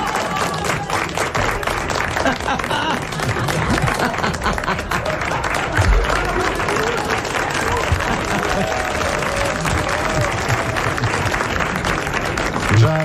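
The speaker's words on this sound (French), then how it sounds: "Tu relèves les noms de tous ceux qui ont applaudi" An audience claps in sustained, dense applause, loud and close, with voices talking underneath.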